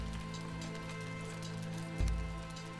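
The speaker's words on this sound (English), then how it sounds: "because it always rains in the swamps" Steady rain pours over a swamp in the Valheim video game, a constant dense hiss of drops with a low ambient hum, continuous and even throughout.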